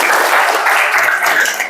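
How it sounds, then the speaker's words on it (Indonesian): A classroom of students clapping during an Indonesian lesson, producing a short, steady burst of fairly loud group applause that tapers slightly at the end, with no speech. "Oke, tepuk tangan dulu"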